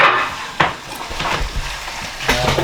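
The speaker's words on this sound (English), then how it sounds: "I've got our old chopping board I'm going to use" An old chopping board is set down in a kitchen, giving a few hard wooden knocks and clatters, with a sharper thud near the start and another near the end, close and fairly loud among light kitchen clatter.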